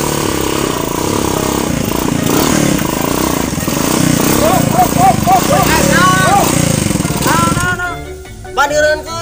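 Motorcycle engine revving loudly and roughly up close, rising and falling in pitch, with voices talking over it before it cuts off near the end.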